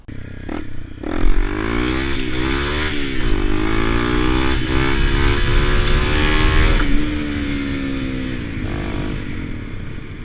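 A Honda CRF250L dual-sport motorcycle accelerates hard in a wheelie attempt, its single-cylinder engine revving up loudly through rising pitch, easing and climbing again before dropping off near the end, close and alone without talk.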